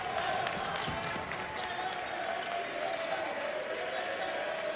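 Arena crowd at a college basketball final between UCF and Western Kentucky at the Myrtle Beach Invitational, a steady roar of cheering and applause from UCF fans sustained throughout, loud and dense with no clear breaks.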